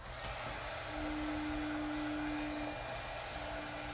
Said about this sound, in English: I'm going to turn on my heat tool because I like to get it heated up.